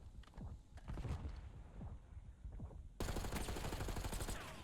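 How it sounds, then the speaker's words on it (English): Rapid gunfire from a Call of Duty match in an Irish league esports playoff, with bursts of shots and footsteps, swelling into a dense, loud barrage of automatic fire in the final seconds. "But now, DB firing shots."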